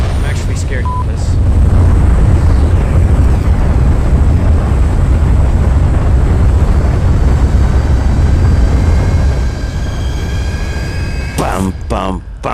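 Strong wind rushes past as a plane flies high overhead, a loud, continuous broadband roar filling the scene, with a few sharp clicks near the end.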